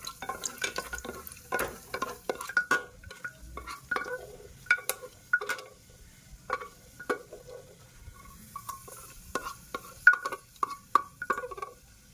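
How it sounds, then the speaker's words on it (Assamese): Cashews and raisins fry in refined oil in a home kitchen, giving a soft, steady crackle with scattered clicks and light stirring scrapes throughout. No voices are present. "কাজু কেপিছ মই ফ্ৰাই কৰি লম"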